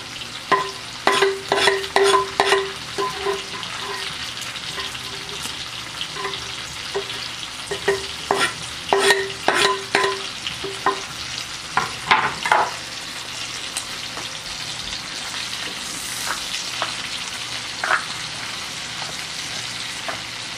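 Garlic, peppers, onions and sausage fry in a pan for feijão tropeiro, a steady close sizzle broken by bursts of clattering stirring, with no talk.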